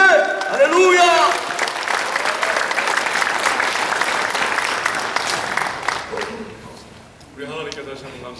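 A church congregation breaks into loud, sustained applause lasting several seconds, with voices calling out over the start and a speaker's voice returning as the clapping fades.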